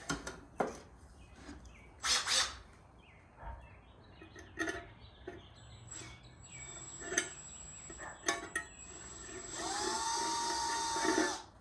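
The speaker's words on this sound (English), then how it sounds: "So let's go ahead and drill that opening." Scattered clicks and knocks, then a small drill bit whirs steadily through wood for a couple of seconds at the end, a close, high-pitched whine.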